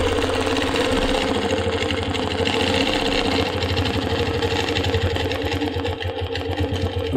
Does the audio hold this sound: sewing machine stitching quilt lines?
yes